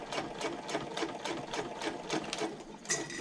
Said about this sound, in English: I'm just going to baste up this side.